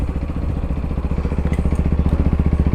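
A Sinnis Terrain 125cc adventure motorcycle revs up close by, its single engine throbbing in quick, even pulses that grow stronger and punchier toward the end, with no voices.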